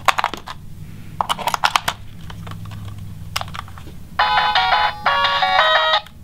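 Clicks and rattles of handling give way to a short bright electronic startup chime in two bursts from a Hyper 8-Bit retro handheld game console on first boot, close and clear, with no talking.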